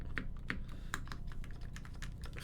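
Crisp clacky keystrokes on an Iron165 FE mechanical keyboard, irregular typing with sharp individual clicks at a close distance, no voices.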